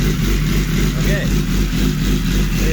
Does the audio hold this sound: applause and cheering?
no